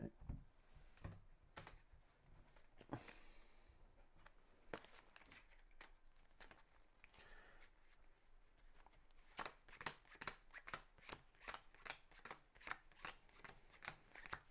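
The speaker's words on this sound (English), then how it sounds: "Quick shuffle of our major powers." A deck of game cards is quickly shuffled by hand, giving rapid papery riffles and clicks, with a denser burst of snaps toward the end.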